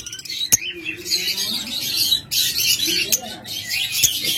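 A pair of pet lovebirds, one moulting on its head, chirps and squawks close by in busy, overlapping bursts, with someone talking over the calls throughout.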